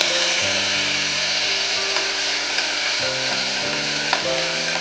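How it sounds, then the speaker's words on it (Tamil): Chopped tomatoes, green chillies and curry leaves sautéing in a pan for South Indian rasam, a steady close sizzle with frying crackle and intermittent stirring scrapes, no talking. "நறுக்கி வச்ச தக்காளி, பச்சை மிளகாய், கருவேப்பிலை மூணுத்தையும் போட்டு நல்லா வதக்கிக்கலாம்."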